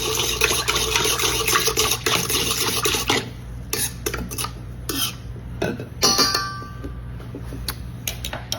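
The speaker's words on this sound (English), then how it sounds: "Whisk it up." Active dry yeast mixture whisked briskly in a bowl, a rapid series of close metallic scrapes and clinks, dense at first and then breaking into separate strokes.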